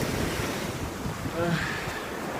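Ocean waves breaking on a shore, a continuous loud wash of surf with some wind noise, steady throughout and no voices.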